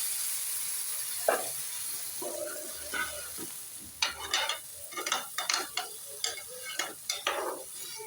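A spoon stirs vermicelli in a pan with added water, making soft scraping and repeated clinks against the metal over a low sizzle. The strokes come in a steady rhythm that grows brisker.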